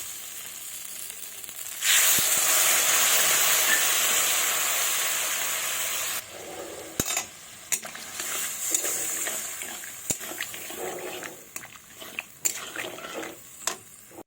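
Water poured into a pan of sizzling, well-fried spice masala for a Bengali bata fish curry: a loud burst of hissing sizzle that slowly fades, followed by softer crackling, stirring and scattered clinks.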